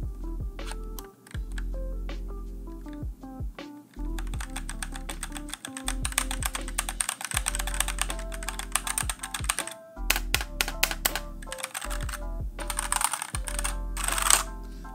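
Brisk, close typing on a GK61 gaming keyboard fitted with Gateron Brown switches, steady clicky keystrokes in quick runs with brief pauses, no talking.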